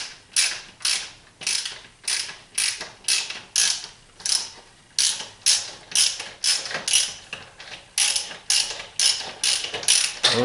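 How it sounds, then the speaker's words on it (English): A motorcycle front fork cap on an XR650L being slowly unscrewed under spring tension gives a steady run of about twenty sharp ratcheting clicks, evenly spaced and close up, with no talking. "So just unscrew it real gently."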